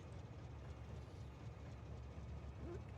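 A train rolls along its tracks in the factory-building game Factorio, a faint, steady low rumble with soft rhythmic clatter and no voices.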